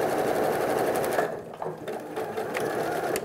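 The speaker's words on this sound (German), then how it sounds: "Jetzt nähe ich bis zu meiner Markierung, wo das Loch sein soll, verriegel an dieser Stelle." Sewing machine stitching fabric for a SnapPap bread basket, a fast, steady mechanical whirr of the needle running close and loud, briefly slowing mid-seam before picking back up.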